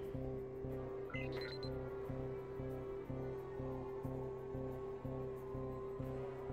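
A repeating electronic alarm rings in the Spider-Man (2002) video game, a steady pulsing tone with regular beats that holds at moderate level throughout, with no talk.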